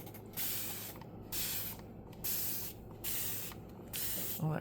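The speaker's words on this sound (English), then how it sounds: "let's see what happens when we give it a spray." Short spray bursts from a spray bottle hit mica powders, five hissing pulses in an even rhythm with brief pauses between them, close and clear, with no talking.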